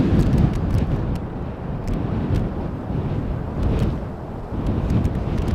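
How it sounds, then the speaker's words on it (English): Wind buffets the microphone outdoors at Schiphol Airport, a loud, continuous low rumble that swells and eases in gusts, with faint clicking vibrations. "Now the wind is still relentlessly blowing over here, causing for some vibrations."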